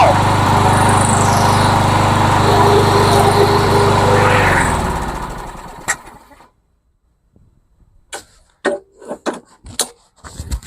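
A rebuilt lawnmower engine runs loud and steady up close before it dies away and cuts out, leaving a few scattered knocks and clatters.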